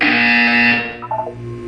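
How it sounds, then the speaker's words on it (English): In the video game Portal 2, an electronic buzzer sounds once, loud and close, holding a harsh steady tone for most of a second before cutting off, followed by a few short faint electronic blips. "You will hear a buzzer. When you hear the buzzer, look up at the ceiling."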